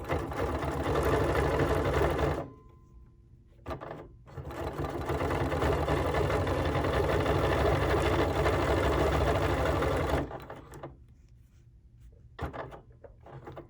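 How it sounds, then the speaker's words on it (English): A sewing machine stitches free-motion quilting on a mug-shaped pincushion, running loud and steady in two long bursts with short pauses between, then a few brief stitch spurts near the end. "guide my machine around the circle"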